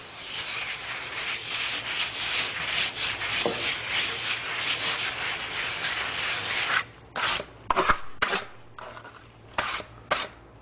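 Lymestone plaster finish being rubbed over a wall, a steady dry scraping hiss for several seconds that breaks into short separate rubbing strokes near the end.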